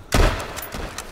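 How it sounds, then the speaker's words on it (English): A sniper rifle shot fired in the H1Z1 video game, one sharp loud crack at the start that fades into a short echoing tail with faint thumps. "I just sniped the shit out of this kid here"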